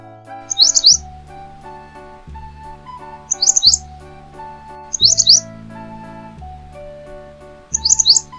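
Bulbul chirps come in four short, bright bursts spaced a few seconds apart, laid over a steady, tuneful children's song accompaniment with no voices.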